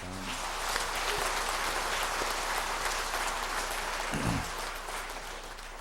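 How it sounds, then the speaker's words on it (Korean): A church congregation applauding the choir at an anniversary worship service, a dense, even wash of many hands from across a large hall, holding steady before tapering at the end, with a brief low voice partway through. "오늘 모두 우리 지하에 박수를 보내시기"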